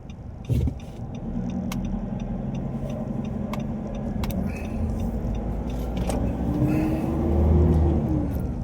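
A car drives through a village in rural Thailand, giving a steady low engine and road rumble from inside the cabin, with a few rattles and a swell in engine noise near the end.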